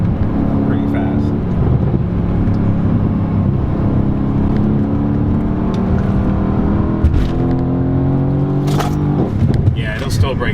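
Steady interior drone of a Mercedes C63s AMG coupe's twin-turbo V8 driven fast through a corner, engine pitch rising and shifting, with people talking over it throughout.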